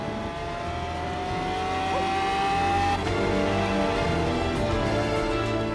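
A Lamborghini Aventador SV's naturally aspirated 6.5-litre V12 roars steadily and loud, its pitch climbing and holding at high revs with a brief dip around the middle, no voices over it.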